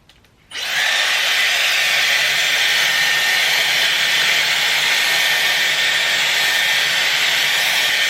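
Dyson Airwrap blowing hot air while styling hair: a sudden switch-on after a near-silent half second, then a loud, steady, close-up hiss of rushing air that holds evenly to the end.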